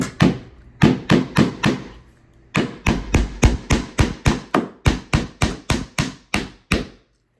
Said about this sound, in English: you put your dowel in here and use a hammer